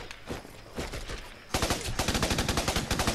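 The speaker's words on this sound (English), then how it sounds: "No, that's just squad mates shooting at them." Squad mates fire at enemies in the shooter game Raven Squad, with scattered shots at first, then a dense rapid burst of automatic gunfire that grows louder and closer.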